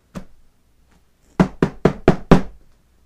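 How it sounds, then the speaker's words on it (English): Knuckles rap on a door: a single knock, a pause, then a quick series of five loud, sharp knocks, close and clear against silence. "He's knocking."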